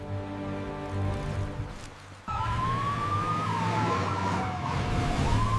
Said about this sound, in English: The siren's wail marks the start of a race against time.